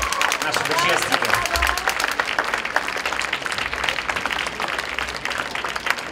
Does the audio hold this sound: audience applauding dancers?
yes